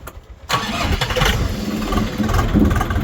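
Kentavr mini tractor engine rumbles to life after a brief quiet moment, then holds a steady, loud, close mechanical drone with slight revving swells and no talk over it.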